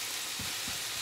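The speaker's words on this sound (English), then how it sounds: "the beef is sizzling away over here" Ground beef browns in a pan for taco tomatoes, giving a steady close sizzle with a couple of soft low stirring thumps and no voices.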